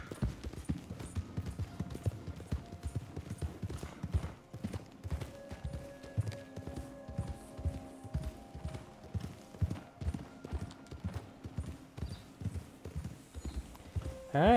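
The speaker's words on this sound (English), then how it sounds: "Trying to keep my horse calm here." Horse hooves clip-clop in a steady walking rhythm throughout in the video game Red Dead Redemption 2, close and clear, with a brief neigh near the end and someone talking over it at times.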